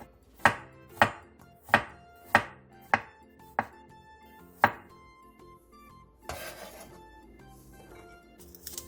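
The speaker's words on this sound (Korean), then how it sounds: "통마늘 6개를 얇게 편 썰어주세요" Whole garlic cloves being thinly sliced with a knife on a cutting board: seven crisp, evenly spaced chops close up, then softer scraping and rustling as the slices are gathered, with no talking.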